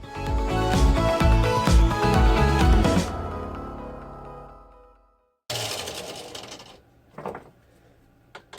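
A power tool cuts through a battery box while the battery is being moved in a Mazda MX-3. A loud, harsh buzzing cut runs about three seconds and fades, then a second shorter burst follows after a brief silence.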